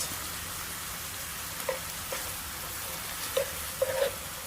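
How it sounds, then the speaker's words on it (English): Diced onion sautés with butter and a pinch of salt in a pan, a soft steady crackling sizzle broken by a few faint spatula taps. "I'm just going to saute until the onions are cooked and translucent."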